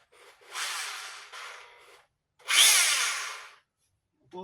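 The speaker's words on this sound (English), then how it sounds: "I found a drill in the shed and a supersized drill bit. I guess we're going to drill some holes," A power drill fitted with a supersized bit runs in two close bursts, whirring and grinding as it bores a hole, with brief pauses between and a short voice at the end.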